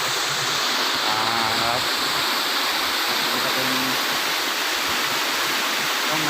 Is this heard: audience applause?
no